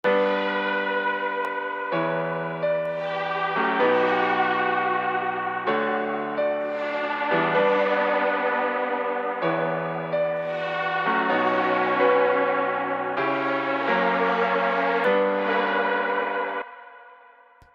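Piano chords ring under a heavily distorted, crying-like vocal, changing every couple of seconds in a slow steady progression, loud and alone, fading out at the end.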